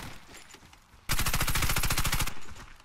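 A Calico M955A firing in Warface, a sustained, fast, loud automatic burst lasting over a second after a quieter stretch of game ambience.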